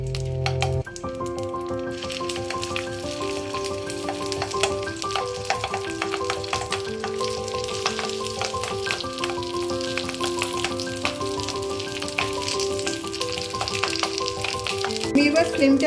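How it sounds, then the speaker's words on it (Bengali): Gandharaj bhetki fish paturi wrapped in banana leaves fries in hot oil in a kadai, with a continuous close sizzle and crackle running the whole time beneath steady melodic background music. "একটা করে আমি পাতুরিগুলো কলার এইগুলো দিয়ে দিচ্ছি কড়ার মধ্যে"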